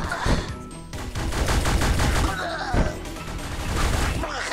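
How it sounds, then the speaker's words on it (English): Burst rifle gunfire from the twin-stick shooter and base-builder game Sleep Tight, loud rapid clustered shots repeating across the whole stretch amid other game noise, with a voice talking over it. "Your burst rifle is pretty damn powerful, as you can tell."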